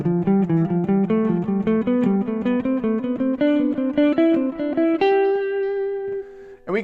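A guitar plays a quick melodic scale pattern in fourths, plucked notes climbing steadily in even rhythm, then settles on a longer ringing note near the end.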